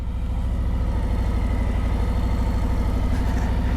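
A motorcycle engine held at low throttle during a slow U-turn, giving a steady, loud, low idling rumble with an even pulsing beat throughout and no voices.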